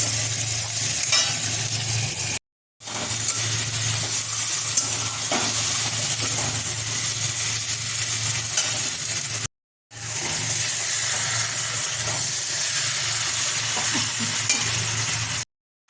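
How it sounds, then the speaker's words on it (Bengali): Onion, green chili, bay leaf and tomato fry in hot oil with a steady, close sizzle and occasional stirring, broken by two brief silent gaps. "পেঁয়াজ, কাঁচা লঙ্কা, তেজপাতা, টমেটো দিয়ে দিয়েছি। একটু ভাজা ভাজা হবে"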